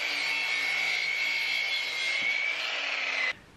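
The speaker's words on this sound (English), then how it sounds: "Let's go ahead and cut 25 and a half inches here." Power saw cutting through a wood board, about twenty-five and a half inches long, for a micro hydro turbine housing box; a steady, loud, close whine runs nearly unbroken for over three seconds, then cuts off abruptly.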